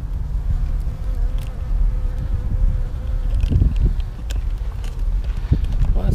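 Honey bees buzzing loudly and constantly during removal from behind a brick wall, with some handling knocks and rustling close by.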